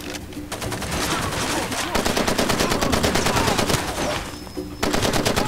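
Sustained automatic gunfire from enemies in Far Cry 2, dense rapid bursts rattling almost without pause for several seconds, loud and close, with one short lull near the end.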